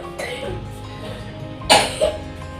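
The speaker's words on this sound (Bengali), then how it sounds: "এখনও ঠান্ডা লেগে আছে, কাশিটা হচ্ছে এরকম কাশছে এখনো পর্যন্ত।" A child with a cold gives two short coughs, the first louder than the second, over low background murmur.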